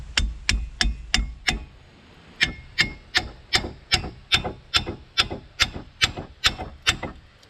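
Metal hammer blows on a stuck front brake caliper of a 2002-2006 Cadillac Escalade during hub work: about twenty sharp, loud, evenly paced strikes, each ringing briefly, with a short pause after the first five and no talking.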